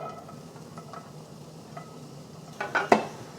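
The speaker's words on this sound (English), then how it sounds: "Adding the onions." Red onions tipped into hot avocado oil in a pan, a soft low sizzle building to a couple of sharp stirring scrapes and a brief louder burst near the end.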